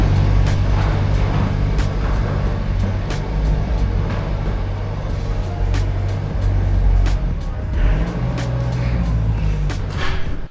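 A 1984 Mark II Volkswagen Jetta Coupe engine runs near and loud as the car is driven out of a barn, a steady low rumble with clicks and knocks over it, no talk.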